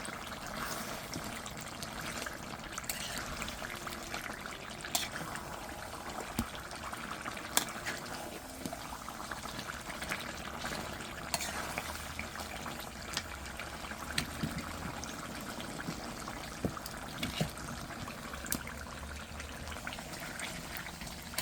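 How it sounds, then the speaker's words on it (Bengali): Beef frying in oil with spices for beef bhuna, a faint, steady bubbling and crackling sizzle in the pan with occasional soft clicks, low in level and continuous throughout. "এখন ভালো মতো মাংসটারে এই তেলের উপরে কষাই নেব।"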